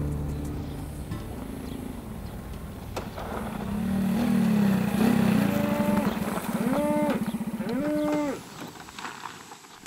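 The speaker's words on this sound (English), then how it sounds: "leaves his herd of cattle to roam freely in this maritime landscape" A herd of cattle roaming freely in a coastal Greek landscape moos several times, long drawn-out lowing calls, some overlapping, over a rumbling outdoor background with no speech.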